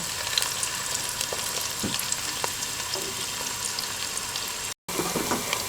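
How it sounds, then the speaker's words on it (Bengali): Chopped onions frying toward brown in a pan, giving a continuous close crackling sizzle with scattered pops and a moment of silence near the end. "এখন আমরা দিয়ে দিব পেঁয়াজ কুচিগুলো। এগুলো আমরা ব্রাউন কালার করে"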